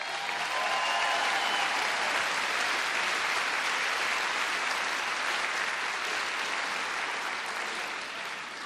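Steady audience applause fills a hall at an evening talk as a woman walks out on stage, a dense even wash of clapping that holds for several seconds without voices.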